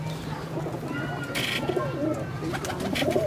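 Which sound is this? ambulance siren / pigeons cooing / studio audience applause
pigeons cooing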